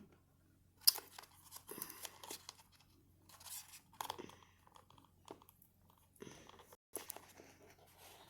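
Close crinkly tearing and snipping sounds come in short irregular bursts, with soft rustling between them and a faint low hum underneath.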